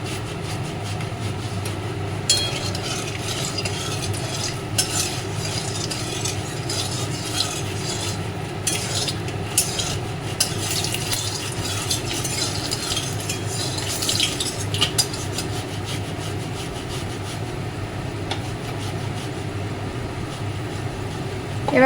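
Paneer going into hot oil in a pan, a soft continuous sizzle with scattered clinks and scrapes of a utensil against the pan, close and moderate in level, no speech.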